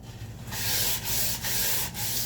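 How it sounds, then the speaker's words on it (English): Sandpaper rubs along the grain of a wooden spice rack in steady back-and-forth strokes, each a dry rasping scrape with short pauses between, close and clear. "So I'm going to take the sandpaper and just clean it all off."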